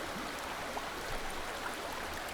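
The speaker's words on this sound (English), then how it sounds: "Yeah, water is flowing." Steady flowing water in the video game Aporia: Beyond The Valley, a soft continuous broadband rush with faint scattered trickles, quiet and even throughout with no talking.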